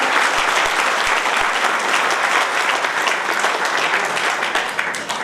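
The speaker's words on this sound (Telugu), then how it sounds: "ఒకసారి గట్టిగా చప్పట్లు కొట్టండి" Audience clapping at a pensioners' day gathering at New Ambedkar Bhavan, a dense, loud burst of applause from a crowd that holds steady for several seconds before easing slightly.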